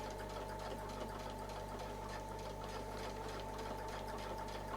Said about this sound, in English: we're just going to sew that little 1/2 inch circle in here